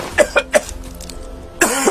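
Three sharp coughs in quick succession, close and loud, followed by a pause and then a rougher, longer cough burst.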